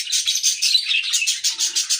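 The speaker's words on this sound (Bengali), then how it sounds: "আর এখানে আমার লাভবার্ড পাখি আছে, এখানে আমার সব পাখি আছে, বাট ওরা এখন ডাকাডাকি শুরু করতেছে" Pet lovebirds in a home keep up rapid, shrill chirps and calls in quick repeated bursts, close and clear with no other sound.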